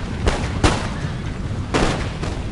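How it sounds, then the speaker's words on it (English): Volleys of musket fire from an infantry platoon in Empire: Total War, with two loud cracking bursts echoing over a steady background battle rumble. "steadily just firing along the line. Good old platoon firing."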